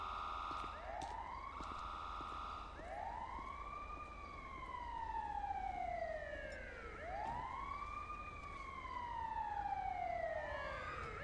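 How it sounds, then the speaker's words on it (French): Ambulance siren in the video game GTA 5, a wailing tone that sweeps up and slides down in long repeated cycles, steady and moderately loud over a low engine hum. "Une ambulance qui arrive."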